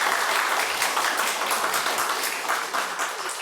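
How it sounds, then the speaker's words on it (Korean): Church congregation at a Sunday service applauding for a visiting professor, a steady wash of many hands clapping close by that holds the full length and fades slightly near the end. "우리 교수님 힘내시라고 박수 한번"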